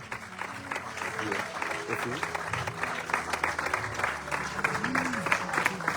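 A church congregation applauds and cheers in praise of Jesus at an inaugural worship service, with steady dense clapping and voices rising over it throughout.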